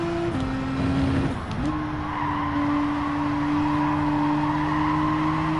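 A car engine in Gran Turismo 7 holds a steady tone that dips briefly and rises again, with a short tire skid near the start, close and continuous with no talk.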